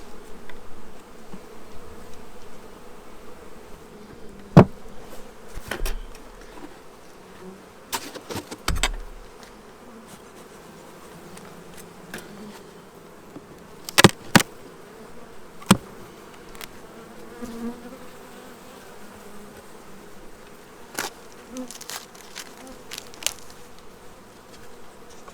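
Honeybees buzz in a steady drone from an opened hive of eight or nine frames, interrupted by scattered sharp knocks and clicks of handling the boxes and frames.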